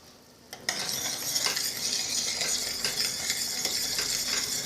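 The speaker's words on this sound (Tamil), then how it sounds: "பாருங்கள், நல்லா கொதிச்சிடுது" Sambar, a South Indian lentil and ground-spice stew, boiling in a pot, with a steady bubbling, sizzling hiss that starts abruptly after a brief quiet moment and continues close and fairly loud.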